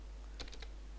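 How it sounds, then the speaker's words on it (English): An IP address being keyed in on a computer keyboard, a quick burst of about four soft, close clicks in under a second, isolated over a quiet hum. "let's type Google's IP address:"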